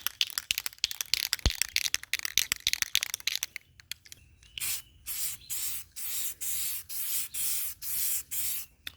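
Spray can applying satin paint to a Mercedes W126 300SD fuel tank: a flurry of dry crackles first, then a series of loud, close hissing bursts in short regular passes, with no talking.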